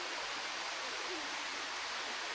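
Bua Tong sticky waterfall in Chiang Mai, a multi-level cascade, gives a steady broad hiss of falling water, even and continuous with no pauses, heard at moderate distance.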